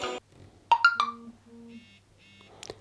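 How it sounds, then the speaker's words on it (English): A phone notification chime plays and is mirrored on a Mobvoi TicWatch C2 Wear OS smartwatch: a short run of electronic beeps and tones, clear and close, with a brief click at the end. "I just got a notification and straight away it popped on my smartwatch"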